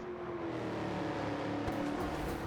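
A Bugatti Veyron's engine drones steadily during a lap around Tokyo in Gran Turismo 7, a continuous, fairly loud mechanical tone with a slight pitch rise and a few brief clicks toward the end.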